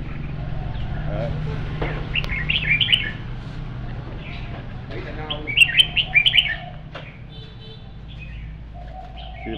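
Small caged birds at a Vietnamese bird farm chirp and tweet in scattered bursts, louder near the middle, over a low steady hum, with someone talking in the foreground.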